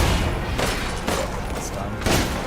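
Gunshots fired at flour bags in Resident Evil Village: several loud, close, broadband blasts spaced roughly half a second apart over a dense, noisy game backdrop.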